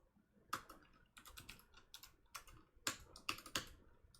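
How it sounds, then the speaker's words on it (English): Someone typing on a computer keyboard, a faint, close series of quick, irregular key clicks coming in bursts, with no talking. "Don't judge me by my typing ability."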